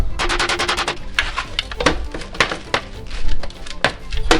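A hammer strikes an aluminium washer from a Dnipro MT motorcycle repeatedly, sharp metallic bangs in an irregular rapid series, loud and close, with no speech.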